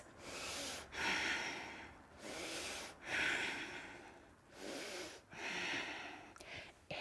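Slow, deep breaths during a held yoga archer pose, each inhale and exhale drawn out over a second or two in a steady, close, quiet rhythm with no talking.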